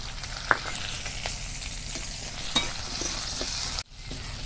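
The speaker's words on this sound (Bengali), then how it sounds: "এবার পেঁয়াজগুলো দিয়ে দেবো।" Chopped onions go into hot oil already tempered with mustard seeds, whole cumin and green chili, giving a steady close sizzle with a few stirring scrapes and a brief drop near the end, no voices.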